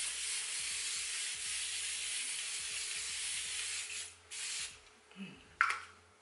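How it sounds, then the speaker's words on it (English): A long hissing spray of grape water facial mist runs for about four seconds, followed by a few shorter bursts and light handling sounds. "This is their grape water spray."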